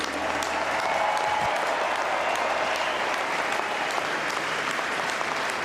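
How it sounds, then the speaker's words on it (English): A tennis crowd in Cincinnati gives sustained applause for Federer and Djokovic after their final, a dense, steady wash of clapping from a large audience with no breaks. "how about another round of applause for these two amazing champions?"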